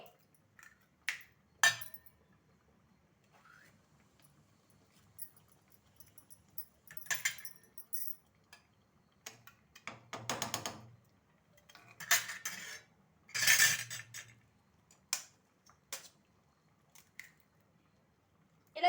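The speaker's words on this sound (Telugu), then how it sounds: "రెండు ఎగ్గులు తీసుకొని ఇలా వేసుకోవాలి" Two eggs cracked one after another into a cooking pan, giving sharp clinks and soft wet drops with scattered utensil taps, close and fairly quiet with no talking.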